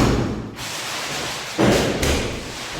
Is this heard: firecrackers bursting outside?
yes